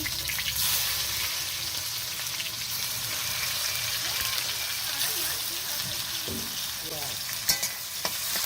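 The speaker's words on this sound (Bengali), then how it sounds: "দিচ্ছি তেজপাতা, শুকনো লঙ্কা, গোটা জিরে, পেঁয়াজ কুচি" Bay leaf, dried chilli, whole cumin and chopped onion fry and hiss steadily in hot oil, with occasional stirring clatter and a brief louder scrape near the end.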